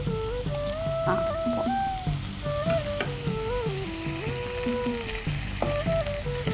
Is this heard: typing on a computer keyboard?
no